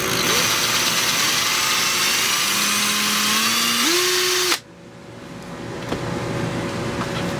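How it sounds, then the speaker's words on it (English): A power drill running on high whines steadily and loudly, its pitch rising slightly before it abruptly cuts off, leaving quiet room noise with a few small clicks. "it looks like the drill is barely turning, but I assure you,"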